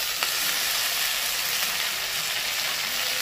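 Lightly fried okra sizzles in a pan as tomato goes in for a sour fish curry with mango, giving a constant close, dense frying hiss with a brief clatter near the start and no talking.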